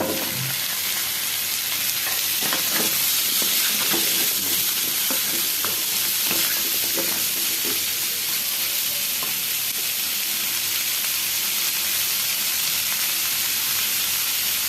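Steady sizzling of vegetables, likely Malabar spinach, frying in a hot pan with mustard seeds, cumin, garlic and tomato, with occasional scraping and stirring sounds throughout, close and continuous.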